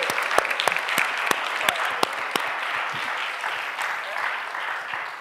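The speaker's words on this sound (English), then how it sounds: "Big round of applause for Susan Topeka" An audience claps warmly after a book talk on reentry and healing, a dense steady applause with sharp individual claps standing out, while a voice speaks faintly underneath.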